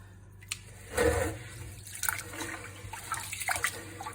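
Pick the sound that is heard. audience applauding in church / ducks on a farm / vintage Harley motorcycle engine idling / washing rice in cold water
washing rice in cold water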